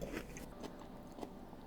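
Crunchy homemade sauerkraut being chewed close to the mic, a steady run of wet crunching and biting with small squeaky bursts, no talking.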